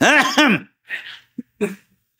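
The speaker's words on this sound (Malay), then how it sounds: "Tengok ustaz kita berdehem tu." Two harsh throat-clearing rasps close up, followed by a few softer breathy huffs and short pauses.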